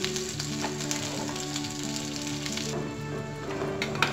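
A banana oat pancake sizzles and fries steadily in a hot pan, a continuous close crackle with no talking.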